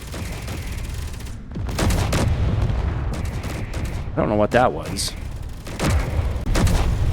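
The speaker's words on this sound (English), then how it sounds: "we've just got the artillery and assault cannons peppering the drones that are out there" In Space Engineers, artillery and assault cannons fire on drones, with heavy booms and rapid bursts of gunfire coming in loud, dense volleys. Someone talks over the barrage.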